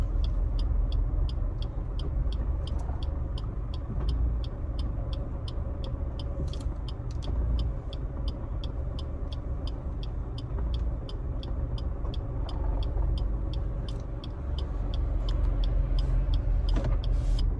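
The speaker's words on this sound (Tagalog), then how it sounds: "Reverse tayo saglit." Suzuki S-Presso AGS car idling and reversing, a steady low engine rumble with a regular high-pitched ticking beep, likely the reverse warning, repeating throughout at close range with no talk.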